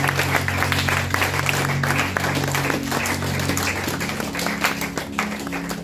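A church congregation applauds loudly and continuously, a dense, steady wash of many hands clapping close by, with a low sustained tone underneath.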